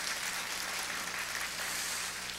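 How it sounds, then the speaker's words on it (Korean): A church congregation gives the pastor a steady, dense round of applause after the Sunday service sermon. The clapping holds at an even level throughout, a broad wash of many hands at moderate distance with no voices on top. "귀한 말씀 열어주신 우리 서목사님 격려의 박수 해주시면 대단히 감사합니다."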